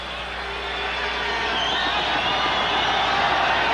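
Loud, sustained roar of a packed basketball arena crowd in Sacramento during a 1986 Jazz–Kings game, cheering and whooping continuously with a steady swell, no clear voices standing out.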